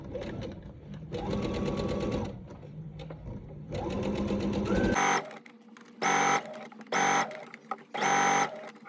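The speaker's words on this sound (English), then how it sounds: "now you're going to take that to your sewing machine and stitch it together" Sewing machine stitching fabric pattern pieces together, running in several steady bursts: two longer hums at first, then four shorter, louder runs separated by pauses, close and clear.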